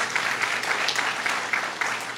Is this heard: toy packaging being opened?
no